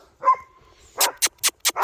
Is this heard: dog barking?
yes